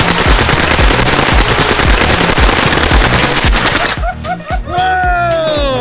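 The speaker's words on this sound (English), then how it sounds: "These Uzis tore through that armor like it was nothing." Uzi submachine guns fire at armor in a dense, unbroken automatic burst for about four seconds, loud and close, then the shooting stops and ringing echoes and metallic tones trail off.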